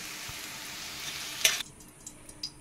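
Bitter gourd (karola) fries in oil with a bright, close sizzle that cuts off abruptly partway through, leaving a quieter hiss with a few light clinks.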